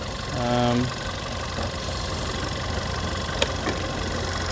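A Volkswagen car engine runs with the hood open, giving a steady, moderately close idle hum that holds throughout with a light knocking texture and a couple of faint clicks near the end; a voice speaks briefly at the start.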